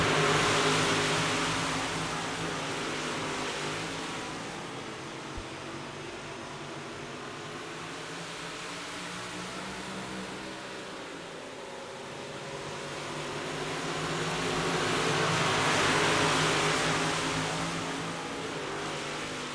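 Dirt track race cars roar around an oval during a heat race at a night October Fest event, a loud continuous engine drone that swells and fades as the pack passes, with no talk.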